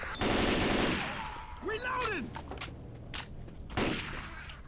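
Rapid bursts of gunfire blast at zombies in the co-op shooter Left 4 Dead 2, loud and close, with players chattering over the shots and a brief descending in-game cry between volleys.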